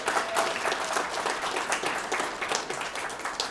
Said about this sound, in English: Yeah, give them a round of applause.